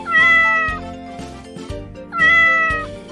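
A cat meows twice, loud and close, each a drawn-out wavering cry with a pause between, over a faint background of music.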